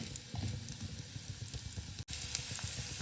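Chopped ginger sautéing in oil in a pan, a steady close sizzle with light stirring clatter throughout and a brief dropout near the two-second mark.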